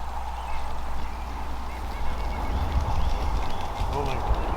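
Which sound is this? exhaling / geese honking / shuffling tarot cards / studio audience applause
geese honking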